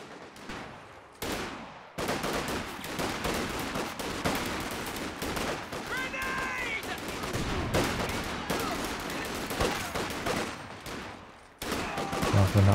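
Dense, sustained rifle fire crackles almost continuously at close range in a Company of Heroes–style strategy game battle against Fox Grenadiers, with overlapping bursts and a few louder cracks near the end.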